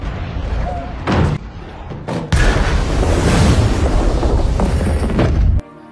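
Bomb explosion from the film Arrival: after a stretch of low rumble and several dull thuds, a loud, sustained blast roars for about three seconds before cutting off abruptly.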